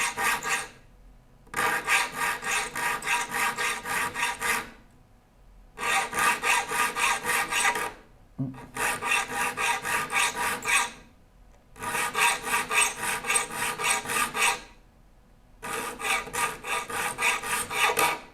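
A file is worked across the teeth of a rip saw during sharpening, producing rhythmic rasping strokes in five bursts of about two seconds each, separated by brief pauses, close and steady with no talking.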